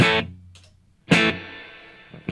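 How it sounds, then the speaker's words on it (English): Electric guitar through a Blue Sky reverb pedal set to plate reverb plays a few plucked notes and chords, each ringing out into a smooth, shimmering reverb tail before fading, with a soft pick attack at the end. "Kind of a plate reverb right now."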